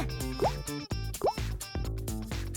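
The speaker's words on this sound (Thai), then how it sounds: "จากนั้นก็เติมน้ำลงไป" Water is poured into a plastic bottle, producing hollow glugging plops and rising gurgles in a quick uneven rhythm, close and distinct.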